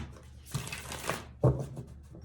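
A deck of tarot cards is shuffled up close, a rustling riffle followed by a sharper snap of cards falling together, in a quiet room.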